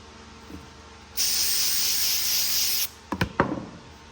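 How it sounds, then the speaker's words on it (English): A rag rubs across an LS cylinder head during cleanup, giving one steady, close scrubbing hiss of almost two seconds, followed by a few short knocks and taps. "So get that cleaned up. Get a clean rag and do it again."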